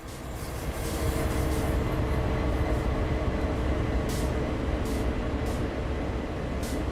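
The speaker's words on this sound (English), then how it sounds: "Why was one of those locomotives making dynamic noises?" Locomotive dynamic braking in the Train Sim World game, a steady loud mechanical roar and rumble of a moving train with a few faint higher whines over it.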